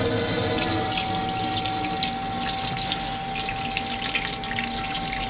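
Water gushes hard and steady from a newly fitted tap in a camper van conversion, a dense continuous rush under pressure with a faint tonal whine running through it, close and loud throughout.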